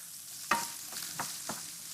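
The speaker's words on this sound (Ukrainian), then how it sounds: "Нарізав кільцями ріпчасту цибулю, починаю смажити." Soft sizzling of onion rings frying in olive oil in a pan, with a few sharp stirring scrapes punctuating the steady hiss.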